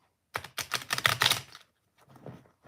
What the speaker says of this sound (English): Now we're gonna shuffle this shit like a poker player again.